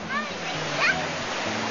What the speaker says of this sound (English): You see the waterfall come down.